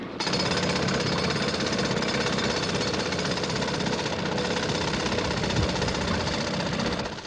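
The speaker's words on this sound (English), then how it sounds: "With the first bite of the pneumatic drills, the TV cameras were rolling." Pneumatic drills break ground at Oxford Circus in London during a weekend of roadworks, a loud continuous hammering clatter over engine drone that runs steadily throughout with no pauses.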